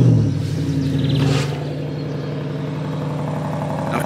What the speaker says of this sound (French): On commence par démarrer le moteur pour faire chauffer un petit peu.